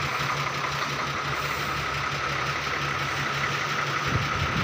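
An Ashok Leyland 12-tyre truck with a fault, parked on a ghat road, idles with a steady, even engine drone and faint knocking that holds unchanged throughout, close by and without talk.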